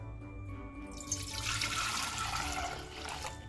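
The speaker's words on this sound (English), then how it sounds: "pour in my red wine" Red wine pours steadily into a pot, a continuous splashing gush that starts after a brief pause and keeps flowing to the end.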